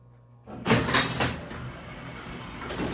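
A vintage Haughton traction elevator door in the Bell Building in Toledo, Ohio, slides with a single loud rumbling roll, then a steady mechanical hum lingers close by, with no voices.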